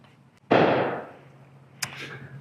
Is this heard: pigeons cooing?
no